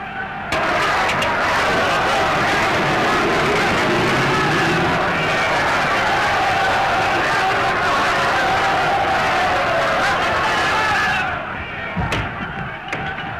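An excited crowd gathered outside clamors in a loud, dense, unbroken roar of massed voices that cuts off abruptly near the end, followed by a couple of sharp knocks.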